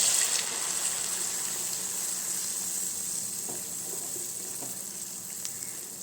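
Bonda frying in hot coconut oil on a gas stove, a continuous bright sizzle and bubbling hiss, loud at first and easing slightly, with no talking.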